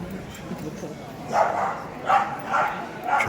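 Several short dog barks or yips, three or four spaced bursts, over a steady background of low murmur and room noise.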